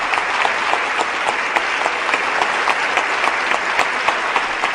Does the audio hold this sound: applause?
yes